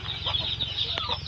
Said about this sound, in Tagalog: Niya yung mga manok dito, idol.